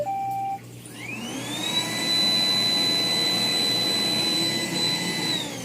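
A Roomba 980 robot vacuum running in carpet boost mode, with a short beep and then a rising whine as the motor spins up into a loud, steady, close roar with a high tonal hum.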